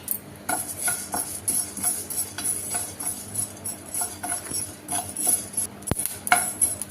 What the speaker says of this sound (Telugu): బియ్యం జీలకర్ర మెంతులు వేసుకొని ఫ్రై చేసుకోవాలి